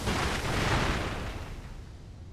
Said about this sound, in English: Let's attempt the other firecracker here.